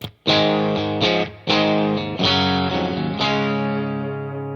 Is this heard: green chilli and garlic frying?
no